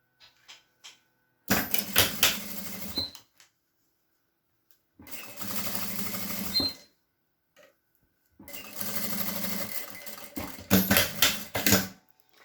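A sewing machine stitches a zippered fabric pouch in four loud, close bursts of rapid mechanical whirring. Short silent pauses separate the runs of stitching.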